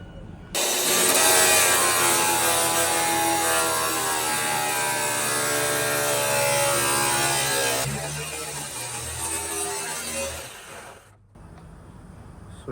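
A power tool with a cut-off disc grinds through a fiberglass boat bulkhead next to the fuel tank on a 26-foot Anderson boat, a loud, sustained whining cut that shifts pitch midway and then stops abruptly.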